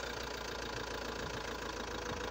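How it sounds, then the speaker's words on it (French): A car engine runs at a steady idle during a battery, starter and alternator test, a continuous mid-level rumble with no pause or talk over it. "Et maintenant, il faut démarrer le moteur."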